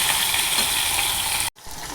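Potatoes fry in hot oil with black cumin and salt in a pan under a lid. The sizzle is loud, steady and close, and it cuts out suddenly for a moment before carrying on.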